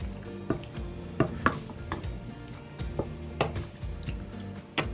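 Homemade veggie curry is stirred in a pan, a spoon knocking and scraping against the metal in scattered clatters over a faint sizzle, close and moderately loud.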